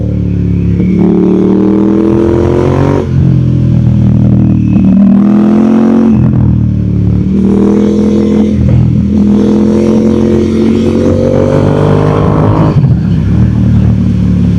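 Ducati Diavel Diesel limited-edition motorcycle with under 10,000 km, its engine running loudly and steadily up close, with repeated rises in revs and a faint mechanical clatter, and no voices.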